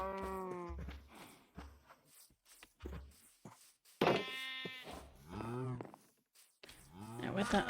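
Sheep bleating in Minecraft with the Cobblemon mod, a few short bleats mixed with cow moos and footsteps, heard alongside someone talking.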